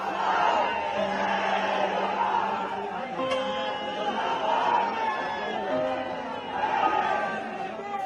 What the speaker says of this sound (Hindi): लोग तिरंगा लहराते और शहीद जिंदाबाद करते दिखे